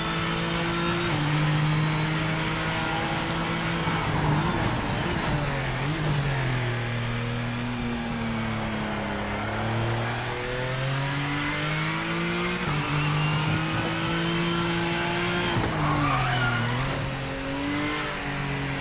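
Race car engines in Project Motor Racing roar steadily, the pitch rising and falling through gear changes with brief tire squeal, loud and up close with no talk.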